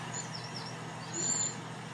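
A young cuckoo gives a begging call that mimics a whole brood of warbler chicks: thin, high-pitched, faint squeaky notes, one brief and one longer, over a low background hum.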